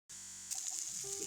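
Aloo makai tikki, a potato and corn patty, set into a little hot oil in a pan, giving a steady bright sizzle that starts abruptly and holds for about a second, close and fairly loud.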